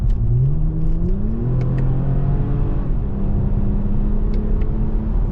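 A 2024 Toyota Camry TRD mid-size sedan accelerates down the road, its engine note climbing steadily through the gears in a continuous close rumble with no talking.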